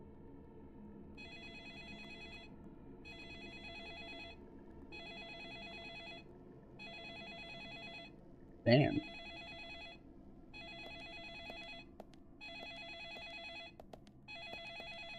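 A telephone rings in the video game Deadly Premonition, a regular pattern of electronic double rings repeating about every second and a half, fairly faint. One short spoken word and a sharp sound briefly cut through midway.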